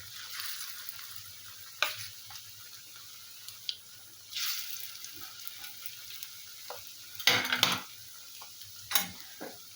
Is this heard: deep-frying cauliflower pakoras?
yes